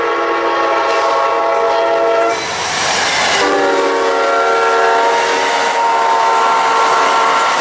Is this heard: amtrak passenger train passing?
yes